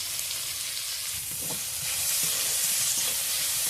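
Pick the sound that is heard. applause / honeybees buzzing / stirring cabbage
stirring cabbage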